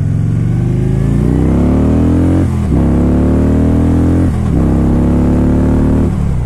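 A Harley-Davidson Rushmore motorcycle with a 103 engine accelerates hard, its loud, close exhaust rising in pitch through two quick gear shifts and pulling strongly again after each, with no talking.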